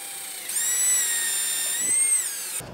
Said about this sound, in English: I'm gonna drill a hole just above this battery so that the tubing going from here to here doesn't kink.